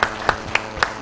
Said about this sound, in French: On peut applaudir ça parce que c'est très important.